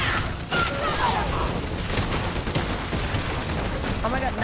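In Fortnite Zero Build squads, gunfire crackles in repeated bursts through a dense, busy game mix. Players talk over the shooting.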